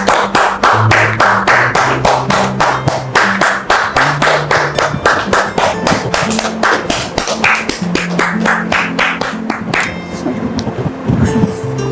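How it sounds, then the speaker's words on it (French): An audience at a talk-show taping applauds in a steady run of crisp, rhythmic, fairly close handclaps that carries on without a break throughout. "Merci de recevoir notre frère sous vos applaudissements."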